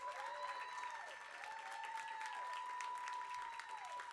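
Steady applause from a full audience at a live show, continuous and fairly loud throughout with a faint tonal whine running under the clapping.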